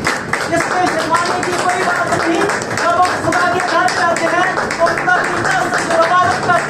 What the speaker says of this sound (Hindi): आज आप सब एक मरतबा खुदा के कलाम के लिए फिर तालियां बजाएं